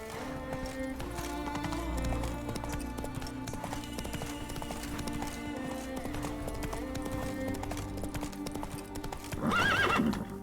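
A horse in The Witcher 3 video game gallops with steady, rhythmic hoofbeats at moderate volume, then gives a loud neigh near the end.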